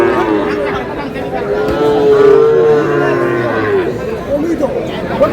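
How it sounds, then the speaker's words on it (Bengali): A Sahiwal bull calf at a cattle market lets out long, loud moos nearby, with people chattering and talking around it. "ষাঁড় বাচ্চা।"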